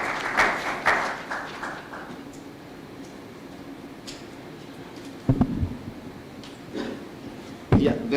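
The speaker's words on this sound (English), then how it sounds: "the Cabinet Secretary deserves another round of applause" Audience at the unveiling of the Kenya End Malaria Council applauds the Cabinet Secretary in short bursts, a few claps standing out and scattered hand claps near the end, with light talk underneath.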